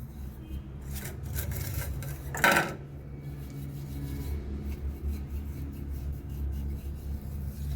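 A brass Kamakshi oil lamp, greasy with oil, being scrubbed clean: soft continuous rubbing and rasping over a low background hum, with one louder metallic scrape in the middle, no speech.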